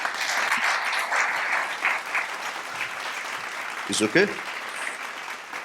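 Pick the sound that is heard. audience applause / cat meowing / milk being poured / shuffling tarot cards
audience applause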